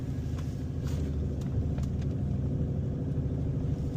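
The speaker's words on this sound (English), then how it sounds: "right now I'm just coasting in first gear" Manual car coasting in first gear, a steady low engine rumble and road noise heard from inside the cabin, constant and even throughout with no talking.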